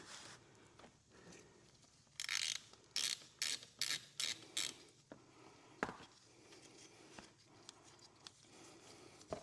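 A ratchet wrench loosens the oil drain plug on a Yamaha Zuma 125 scooter, a close run of quick, sharp clicking bursts followed by scattered clunks and taps, fairly quiet overall.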